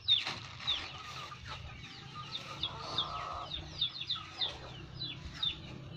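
Bangkok chickens cluck and chirp while pecking at leftover rice mixed as feed, with short repeated calls and light scuffling near the listener, no talk over them.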